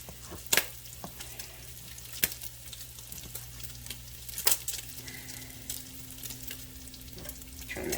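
Bacon sizzles and crackles in a frying pan with a continuous soft hiss, punctuated by a few sharp pops and clicks, close and steady with no talking.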